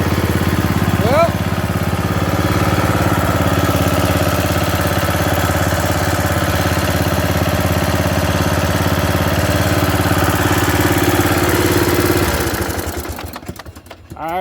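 A Bolens riding lawn mower engine runs at a steady, loud idle for about twelve seconds, then sputters and drops off near the end.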